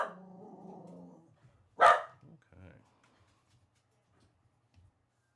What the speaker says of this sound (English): I'm going to mute it while he is barking away